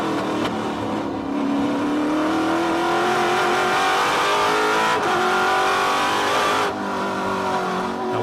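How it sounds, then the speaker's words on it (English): A TA2 race car engine drones loudly at close range through the carousel at Road America, its pitch rising steadily and dipping briefly as the throttle is feathered, with a sustained, continuous roar and no voices. "watch him feather the throttle here in his hands through the carousel"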